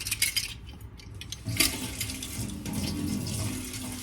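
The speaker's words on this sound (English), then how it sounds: "you're also gonna add to this 3 tablespoons of water" Three tablespoons of water go into chocolate cookie dough, with faucet and sink sounds of water pouring and splashing plus faint clinks of utensils against a bowl, close by, at moderate level and with no talk.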